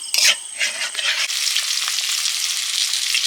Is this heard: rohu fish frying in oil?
yes